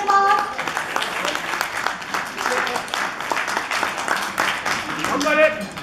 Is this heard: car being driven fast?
no